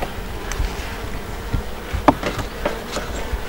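Honeybees swarm around a hive at a biodynamic apiary in the Landes, France. A steady, close insect buzz fills the air with no voices.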